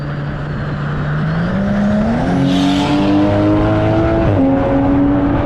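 A Toyota Supra GR MkV A90 engine revs steadily upward toward about 5,000 RPM, its loud, continuous drone climbing in pitch in a few stepped rises with no talk over it.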